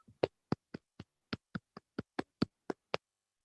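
Sharp claps at a brisk, even pace, about a dozen in a row, crisp and close, honouring a winning student in an elementary social studies teaching simulation classroom.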